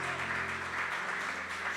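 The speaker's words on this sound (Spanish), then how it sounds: "Dele un fuerte aplauso al Señor." A church congregation applauds during a Spanish-language service, a dense, steady clatter of many hands filling the room with a low hum beneath, moderately loud and continuous without a break.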